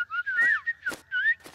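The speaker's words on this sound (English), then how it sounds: "It's the songbirds." Sweet songbird song in an animated children's garden scene: a short run of bright, sliding whistled notes in three or four close phrases, clear and alone with no talk.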